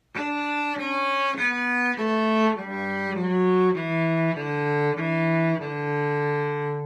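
A cello plays a slow descending line of separate sustained notes starting from high D, clear and close, with no other sounds.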